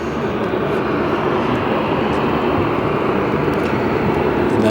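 A Boeing 737-700 at Phoenix Sky Harbor Airport gives off a steady, loud jet engine roar that stays constant throughout with no break.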